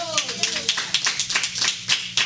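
A church congregation claps in praise to the Lord, several loud, close rhythmic bursts of hand claps, with voices sounding underneath at the start.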